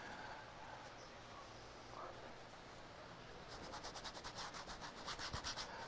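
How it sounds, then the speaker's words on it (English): A cloth rubs oil glaze off a painted canvas, giving soft, close scrubbing strokes that become faster and rhythmic in the second half. "I am just wiping off where I want the glaze to be lighter."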